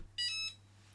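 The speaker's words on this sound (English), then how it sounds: "my mug press is busy warming up. It'll probably beep any second now" A heat press for mugs lets out two short electronic beeps close by, over a faint steady hum, and a click closes the moment.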